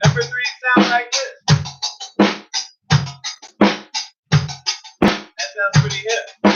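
Drums play a practice beat pattern of punchy low kicks and bright crisp hits in a busy, syncopated rhythm, close and loud with no talking.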